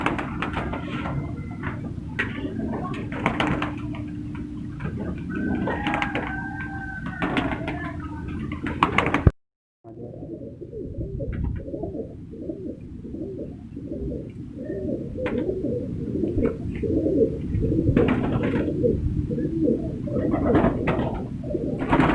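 Shirazi pigeons, a breeder pair in a loft setup, coo in soft repeated throaty calls close by, with a brief sharp break midway and general bird chatter continuing afterward.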